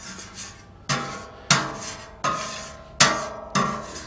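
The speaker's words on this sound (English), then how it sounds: "Let me scrape the griddle here." A metal scraper dragged across a Yoder flattop griddle with bacon grease, five or six distinct rasping strokes at a steady rhythm, each starting sharply and fading, close and loud with no voices.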